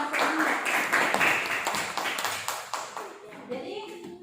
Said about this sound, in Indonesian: Tepuk tangan dulu supaya tambah semangat.